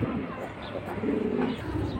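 Tota face pigeons, a fancy breed kept at a market, cooing in low, continuous soft rumbles close by, with a steady murmur of background noise throughout.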